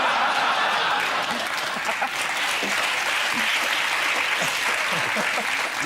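A studio audience at a TV comedy panel show applauds steadily with dense clapping, a few scattered chuckles mixed in, sustained throughout.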